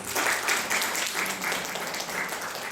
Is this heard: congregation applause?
yes